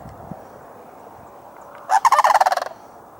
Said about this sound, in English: these two cranes seem to be unhappy with my presence here